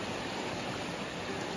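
A small jungle river that stays mostly dry through the year rushes fast after overnight rain, giving a steady, dense wash of flowing water, close and continuous, with no voices.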